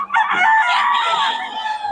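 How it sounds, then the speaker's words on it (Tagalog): A rooster crows loudly and close by in one drawn-out call, with a brief cluck or voice at the start and end. "Ang quality mga manok na, boss yun."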